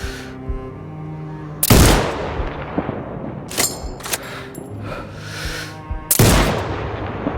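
Sniper rifle shots in Sniper Ghost Warrior Contracts 2, with two loud, sharp reports a few seconds apart, each followed by a decaying rumble, over a quieter game soundscape with occasional clicks.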